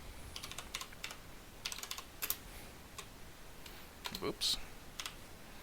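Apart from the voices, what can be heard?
typing apt-get command on computer keyboard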